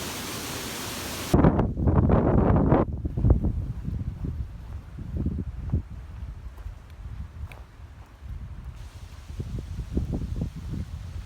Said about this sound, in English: But it's a pretty windy day